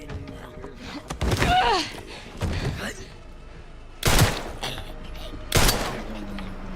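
Several loud gunshots fired in Resident Evil 9, coming in separate bursts with pauses between them, and some talk between the shots.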